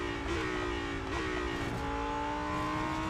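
A race car engine in the Real Racing 3 video game, revving high and steady, its pitch dipping briefly between gear changes and then climbing again, loud and continuous throughout.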